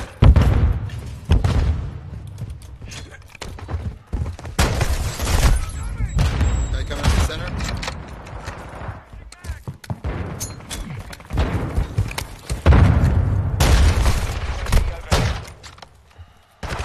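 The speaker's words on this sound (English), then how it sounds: "Throwing a stun grenade!" Repeated booms and heavy thuds from a stun grenade and gunfire in a video game, loud and bursty throughout, with a voice talking over parts.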